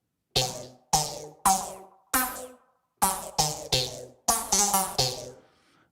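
Bright synth plucks strike one at a time in a loose melody, each note sharp at the start and decaying quickly with a touch of reverb.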